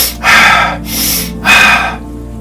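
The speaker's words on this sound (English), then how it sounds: "The repetitive breathing more quickly and deeply" Rapid, deep breathing through the mouth or nose, demonstrated loudly and close up: two strong breaths separated by a softer one, each lasting about half a second.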